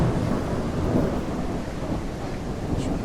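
Dense rain and low thunder rumble from a video game storm, constant and loud with no breaks or voices.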